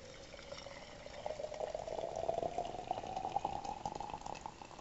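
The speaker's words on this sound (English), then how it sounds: "I'm now going to add some hot water to our teapot." Hot water pours steadily into a glass teapot holding a flowering tea ball, a close, continuous trickle that rises slightly in pitch as the pot fills over several seconds, with no voices.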